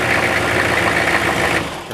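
Diesel engine on an AlternatorParts DS144 upgrade running steadily after being cranked, a loud, even mechanical drone with a rattly, buzzing texture throughout, close to the microphone and with no voices.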